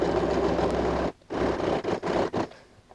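A sewing machine stitches a straight seam along the fold of an inverted pleat on a fabric bag, running in a steady continuous hum with several short pauses toward the end.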